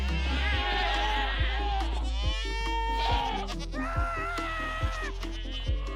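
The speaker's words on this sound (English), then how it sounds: "it is a screaming goat house" Goats scream and bleat in chorus inside a goat house in the Minecraft video game, loud, overlapping repeated calls over a steady droning background, with a short thud recurring roughly every second beneath them.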